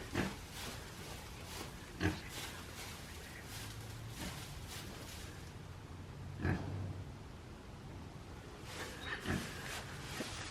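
A pig on a farm near nervous cows grunts and snorts in several short bursts against steady outdoor background noise, moderately close, with no talking.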